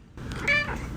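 A cat gives a single short, clear meow, close and moderately loud, with no other sounds around it.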